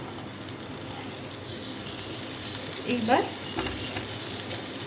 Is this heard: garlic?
yes